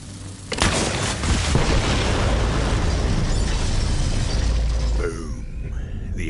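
A set of bombs detonates in the Borderlands 3 video game, a loud booming blast that shatters and then rumbles on for several seconds as a dense roar before fading slightly.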